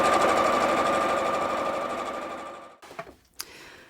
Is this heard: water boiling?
no